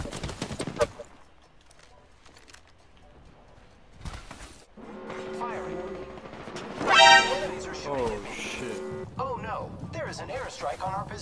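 Gunfire from the video game Apex Legends comes in rapid automatic bursts and scattered shots, with game effects and voices mixed in and a louder burst of firing in the middle.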